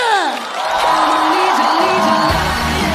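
A studio audience at a stand-up comedy show cheers and whoops loudly as a guest is welcomed, the crowd noise rising and staying full throughout.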